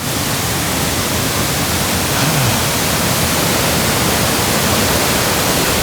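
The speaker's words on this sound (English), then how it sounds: "the sound of the waterfall makes it sound bigger than the other ones" A waterfall in a Hokkaido canyon roars as a dense, unbroken wash of rushing water, loud and close, steady throughout with no voices.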